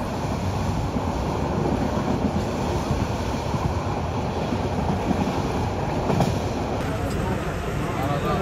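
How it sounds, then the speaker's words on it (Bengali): The Mohanagar Express passenger train from Dhaka to Chattogram runs on rails after leaving Narsingdi station, giving a continuous rumbling roar with wheel-and-track texture heard from inside the moving carriage. "এই মুহূর্তে আমাদের ট্রেন ছেড়ে যাচ্ছে নরসিংদী স্টেশন থেকে।"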